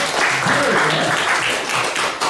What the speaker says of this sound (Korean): 경례의 박수 한번 드리겠습니다